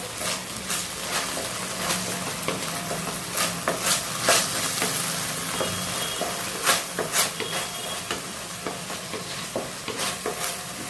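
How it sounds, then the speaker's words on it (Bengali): Momo Manchurian with sauces being stirred and fried in a pan, giving a steady sizzle broken by repeated sharp scrapes and clatters of the spoon against the pan, close and fairly loud with no voices. "এখন সসটার সঙ্গে ভালো করে নেড়ে চেড়ে নিই।"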